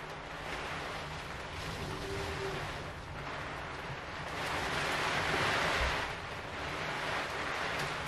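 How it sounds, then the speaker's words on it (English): Heavy rain bashes down outdoors, heard from inside as a steady, dense wash of noise with gentle swells in loudness and no voices. "You'll probably hear that rain bashing down outside."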